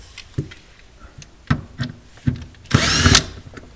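A power driver works on the small hex head fittings that hold the tracks on a 700TCI machine. Sharp clicks and short taps come first, then a brief burst of close, loud whirring near the end.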